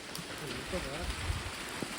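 Rain falls steadily at night beside an abandoned house deep in a forest, a dense, even hiss with scattered drops, while people talk under it.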